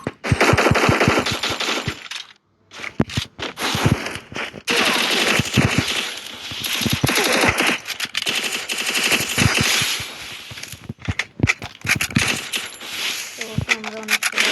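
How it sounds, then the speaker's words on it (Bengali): Rapid bursts of automatic gunfire crackle almost nonstop through a mobile shooter game match, with sharp shots, clinking shell-like sounds and a brief lull before an ice grenade goes off, all loud and close. "একটা আইস গ্রেনেড মারি দিই।"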